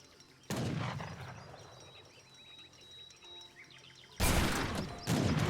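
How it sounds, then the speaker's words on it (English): Musket volleys in the Age of Empires 3 strategy game: one sharp crackling volley with a decaying rumble, quieter battle clatter and a faint tone, then two more loud volleys in close succession near the end. "It's good volley there"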